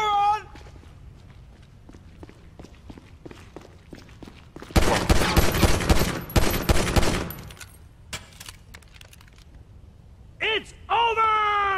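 A shootout in Grand Theft Auto 5 erupts in a dense burst of rapid automatic gunfire that lasts a couple of seconds, set between footsteps, scattered shots and shouted voices.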